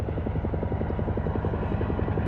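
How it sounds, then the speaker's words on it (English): A helicopter's rotor thumps in a fast, steady rhythm, loud and fairly close, with no one speaking. "Is this that same helicopter from before?"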